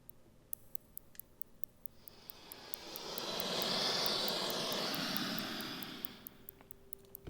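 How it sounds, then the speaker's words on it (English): An Omnisphere Burning Piano fire torch effect swells from quiet to a broad, rushing roar and fades again over several seconds, sweeping across the stereo field, with sharp ticking clicks scattered throughout. "There's this torch sound that I found in Omnisphere, which is the Burning Piano SFX Fires Torch 3."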